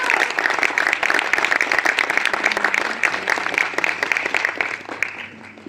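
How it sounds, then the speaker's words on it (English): An audience claps in a sustained round of applause that stays dense and steady, then thins slightly toward the end. "Can we just give him a round of applause for that?"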